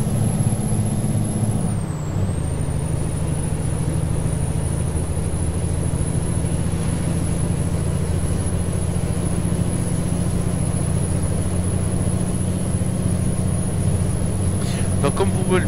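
A heavy truck hauling a tractor drives along a road, heard from inside as a loud, steady low engine drone with road rumble and a high whine, plus a brief hiss near the start.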